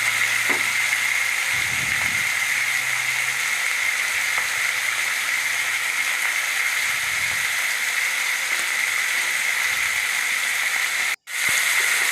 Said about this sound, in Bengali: আলুর টুকরোগুলো এই তেলে ভেজে দেবো একসঙ্গে, আলাদা করে ভাজলাম না।